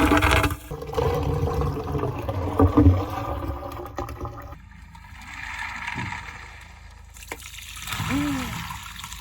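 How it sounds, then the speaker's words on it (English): Hot water pours and trickles in a shower stall to melt ice, with splashing and gurgling that rises and falls; voices speak intermittently over the water. "So put your ice in the shower and then follow it with hot water."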